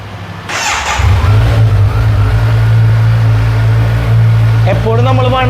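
A stock-exhaust Kawasaki Z900 motorcycle starts up inside a pre-owned superbike showroom, a loud crank catching into a steady deep idle that holds throughout, with a brief rev near the end.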